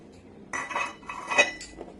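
A tin lid is set over a food container of marinated ingredients mixed with mustard oil and Kashmiri chili powder in a home kitchen, giving a few close metallic clinks and clatters without any talking.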